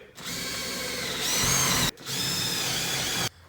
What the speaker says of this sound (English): I'm gonna drill some pilot holes